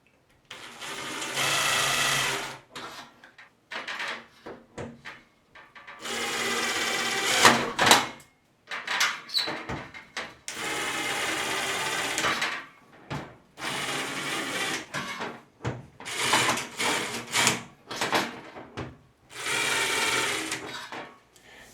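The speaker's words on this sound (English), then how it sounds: "This is the only drilling we needed to do." A drill bores a mounting hole during a bathroom shower door install, in repeated bursts of steady whirring a few seconds long separated by short pauses, close and fairly loud.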